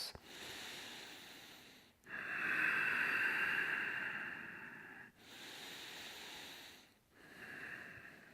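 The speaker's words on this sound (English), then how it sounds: "A couple breaths." Slow, deep breaths during a gentle yoga bridge pose: long airy inhales and exhales close to the microphone, each pause leaving a short gap, with no talking.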